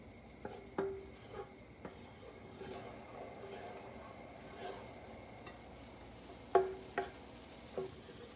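Butter and oil heat in a pan with a faint, steady sizzle, broken by occasional sharp clinks of a utensil against the pan.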